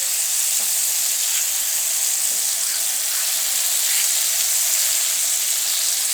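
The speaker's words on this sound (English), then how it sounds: "I'm gonna let it cook a little bit longer on that side." A burger patty cooking in a pan, meant for quesadilla burgers, producing a steady, even sizzle and hiss that runs unbroken and fairly loud throughout, with no voices.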